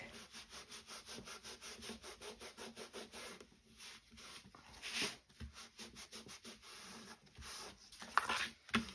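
Cloth rubbing and wiping over paper and card to take off excess glue while building a scrapbook album box, a close, steady scrubbing rhythm of repeated short strokes with a few brief louder scrapes near the end.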